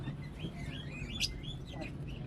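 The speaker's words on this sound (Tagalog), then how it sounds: "Mga magagandang ibon, no?" Small birds chirp and twitter in quick, high, gliding notes against a low steady hum, fairly close but not loud.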